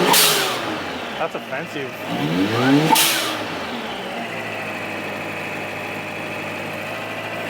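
Car engine with an exhaust valve revs in a sharp burst, then settles into a steady idle rumble, close up, with a brief spoken remark over it.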